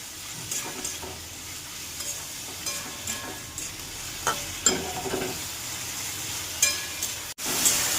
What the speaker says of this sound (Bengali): এবার একটু নাড়িয়ে দিলাম।